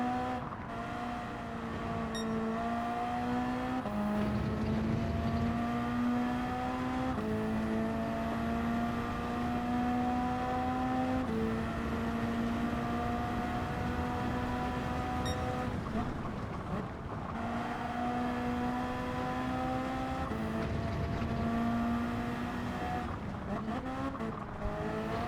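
Race car engine in Gran Turismo 7 at Brands Hatch, a steady loud drone with rising revs through the gears and sudden pitch drops from quick downshifts into corners, repeating across several bursts.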